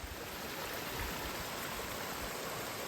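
Water rushes over rocks along a hiking trail, where rocks have turned into small waterfalls, a steady, close, broadband hiss that stays constant throughout with no talk.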